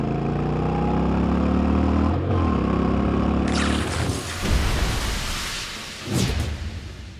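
A Honda NC750X motorcycle engine is revved and accelerates from a steady low cruise in third gear at around 2000 rpm, the tone climbing as throttle opens, loud and close, with strong wind rush over the ride.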